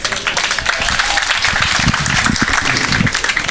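Audience applause fills a panel discussion on the state of the voter register, a steady, dense wash of many hands clapping at close range for the whole stretch without a break.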